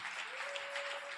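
Brief, faint applause from a church congregation, a dense wash of clapping with a steady tone beneath it.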